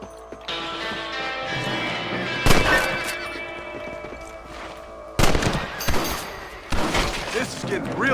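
Rifle shots in the video game Red Dead Redemption: a few sharp, loud cracks, some in quick pairs, each with a short ringing tail, under a faint musical bed and without talk.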